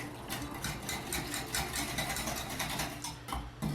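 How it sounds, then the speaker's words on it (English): Eggs being whisked into buttermilk in a bowl for pancakes, a busy, steady rapid clatter of whisk against the bowl that runs continuously without talk. "Give it just a little quick whisk."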